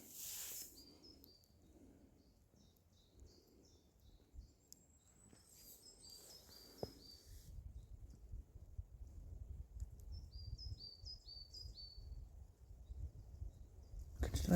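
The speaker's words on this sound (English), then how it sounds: "You can still hear the birds, it's a good sign." Birds sing in an old forest, thin chirps and short trilling phrases coming and going from a distance over a quiet background that slowly fills with low rustling.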